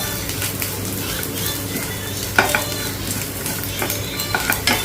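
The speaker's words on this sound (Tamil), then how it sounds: "இதையும் போட்டு வறுத்துக்கிட்டா ரோஸ்ட் ஆகிடும், நல்லா வெடிச்சிடும்" White sesame seeds crackle and pop while roasting in a hot dry pan, with scattered sharp snaps over a constant sizzling hiss and occasional stirring scrapes.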